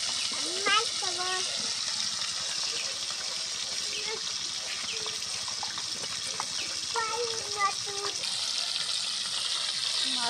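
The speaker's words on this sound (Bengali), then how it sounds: "মাছ ভাজি" Fish frying in hot oil sizzles in a steady, continuous crackle through the whole stretch, with occasional stirring clinks and a voice speaking now and then over it.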